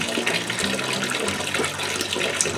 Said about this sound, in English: we'll sparge our grain out until we collect up 6 gallons